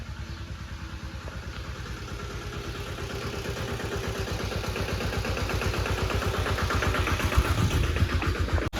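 A sanedo farm vehicle's engine runs steadily throughout, a close, loud chugging pulse that grows slightly stronger toward the end, with no talk over it.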